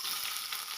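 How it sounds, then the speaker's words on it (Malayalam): Mustard seeds spluttering and crackling in hot oil, a steady, bright sizzle close to the pan with no pauses and no voices. "കടുക് പൊട്ടിക്കൊണ്ടിരിക്കുകയാണ്."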